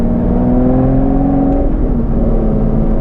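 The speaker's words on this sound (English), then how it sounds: "when you go to pull up and change up a gear, you just come off throttle a little bit" An Aston Martin GT12 V12 engine revs loud and close, its rising drone easing briefly as the throttle lifts for an upshift and then pulling on steadily in the next gear.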